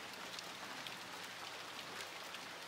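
Rain patters steadily on the ground, leaves and rooftops as a dense, even hiss of countless drops with no pauses.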